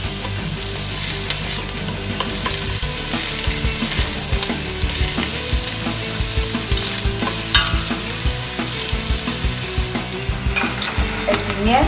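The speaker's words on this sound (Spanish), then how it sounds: "agregamos la cebolla colorada, revolvemos para que se vaya sofriendo" Red onion stirred and sautéed in a pan for Ecuadorian fanesca, with a steady loud sizzle and repeated scraping stir strokes throughout, no voices.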